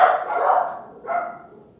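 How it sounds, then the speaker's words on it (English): Dogs at home let out two loud, close barks, each one drawn out slightly. "let me see what they're barking about"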